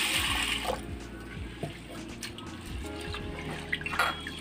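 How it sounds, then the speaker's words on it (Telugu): Water running and splashing as a cup of toor dal is rinsed for beerakaya pappu, a steady near wash with small splashes and drips, no talking. "ఒక కప్పు కందిపప్పు వేసుకున్నాను, వాటర్ పోసి కడిగేసుకున్నాను."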